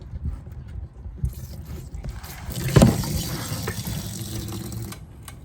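Coolant pours from a BMW E46 into a drain pan, a soft running trickle of liquid that swells into a louder splash partway through, close by, with faint handling noises around it.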